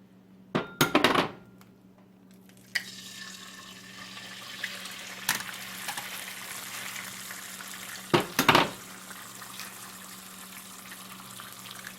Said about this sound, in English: I'm going to do a little bacon in it, christen it, and then do some eggs